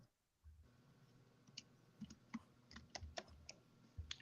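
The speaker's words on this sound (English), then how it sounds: "I'm just typing out the girls' names" Typing on a computer keyboard in a quiet room, a run of light, irregular key clicks with occasional louder taps, close and alone with no talking.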